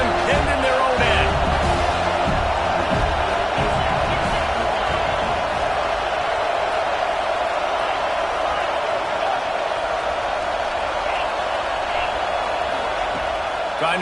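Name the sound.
stadium crowd roaring in the video game CFB 26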